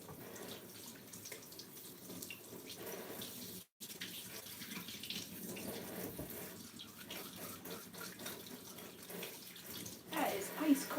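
Ice-cold tap water runs steadily into a sink while clay is washed off hands, a soft continuous splash with faint gurgles, and a voice speaks over it.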